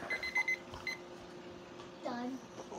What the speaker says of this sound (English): What was that beeping for?